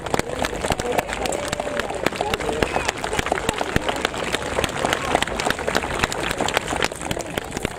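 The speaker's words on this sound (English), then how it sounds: "if you could please give the dead a round of applause" Outdoor crowd at a Roman fighting display at a festival gives a round of applause: dense, steady clapping from many hands that fills the whole stretch, with some voices mixed in.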